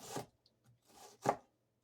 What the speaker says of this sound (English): So we're just chopping this up, dicing it, and however you want to.